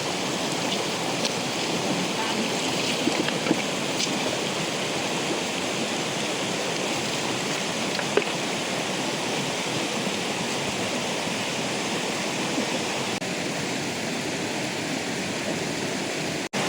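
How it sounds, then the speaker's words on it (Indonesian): River water flowing steadily beside a net set in a stream, a dense, even rushing wash heard up close that holds constant with no breaks. "ini sebelah sini aliran airnya ini sudah sangat mengecil ya"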